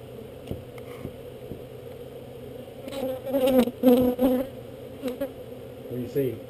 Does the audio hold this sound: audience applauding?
no